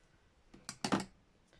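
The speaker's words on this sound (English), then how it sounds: "the worst scissors in the world trying to cut fabric." Dull scissors snipping through fabric in a sewing room, a few quiet crunching cuts bunched together near the middle, close and faint with no talk.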